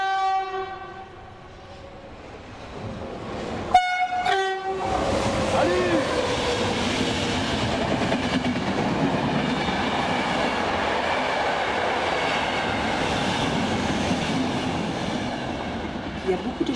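A train passes at a French railway station: a loud, sustained rumble and rattle of rail cars, preceded by a brief two-tone horn or chime, then steady clattering roar throughout.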